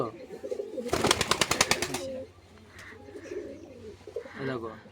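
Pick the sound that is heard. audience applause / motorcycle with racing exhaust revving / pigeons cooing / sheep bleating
pigeons cooing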